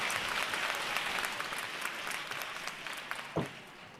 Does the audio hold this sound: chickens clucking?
no